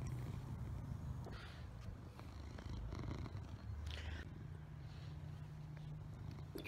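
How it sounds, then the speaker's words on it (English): A contented house cat purrs up close in a steady low rumble, continuous and soft under faint background noise, with no talking. "Silent purr, huh?"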